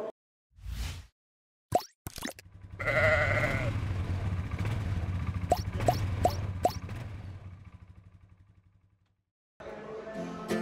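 Sheep bleat in a few sharp, separate calls over a steady crowd murmur and shuffling inside a livestock mart during an Innovis ram sale at Borderway Mart in Carlisle, with brief knocks and quiet gaps at the start and end.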